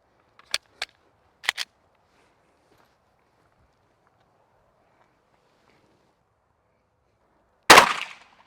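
A Glock pistol fires Monarch ammunition: two sharp cracks, then a quick close pair, a quiet gap of several seconds, and one louder, longer blast at the end.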